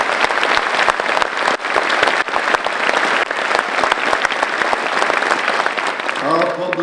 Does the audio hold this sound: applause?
yes